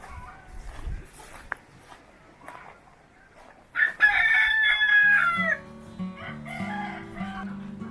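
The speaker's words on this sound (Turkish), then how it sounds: "Burada horoz takımımız var." A rooster crows loudly once, a long rising call, followed by scattered clucking from other fowl nearby.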